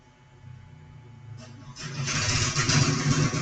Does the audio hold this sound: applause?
no